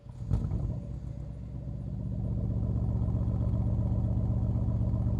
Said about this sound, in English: As I pull it back into sport, it is going to fire our V8 up